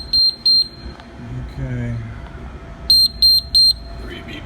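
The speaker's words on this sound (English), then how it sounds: "we have 3 beeps" A Hoshizaki KM280 ice machine sounds its alarm code as loud, high, sharp beeps, two at the start and three more near the end, with a brief spoken word and light room noise between.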